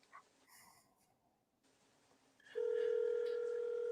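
A telephone call is placed: faint dialing clicks and tones, then a loud, steady ringback tone holds for the remaining seconds, with no talk.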